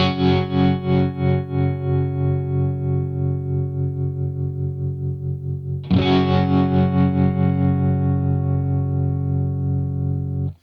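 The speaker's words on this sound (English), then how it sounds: "So that's the sine wave tremolo" Electric guitar through a Keeley Hydra stereo pedal with sine-wave tremolo at high depth, sustained chords pulsing smoothly in volume, then a freshly struck chord ringing on with the same steady wavering until it cuts off.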